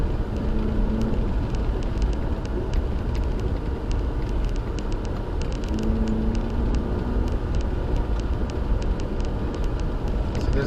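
A Jeep Trailhawk crawling off-road in first gear, with a steady, loud engine drone and continuous rumble of the vehicle bouncing over rough ground, no talking.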